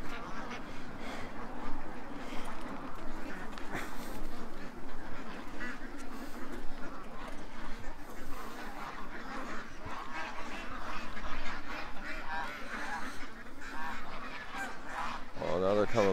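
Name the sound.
ducks quacking outdoors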